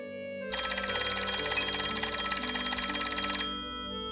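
A telephone rings with a bright, steady electronic trill lasting about three seconds, loud and alone over a faint low background hum.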